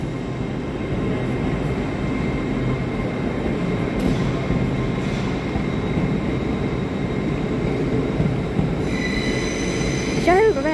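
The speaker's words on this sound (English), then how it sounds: "trains off to London King's Cross guys" An LNER train runs on the line to London King's Cross, a loud continuous rumble of rolling wheels and carriages close by, with squealing wheels rising near the end.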